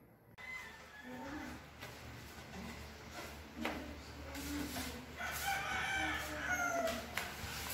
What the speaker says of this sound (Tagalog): hello daw sabi ng mga manok.